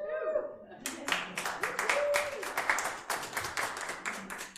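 An audience applauds during a political speech on a new law, a stretch of brisk, irregular clapping from a moderately sized crowd, preceded by a brief voice.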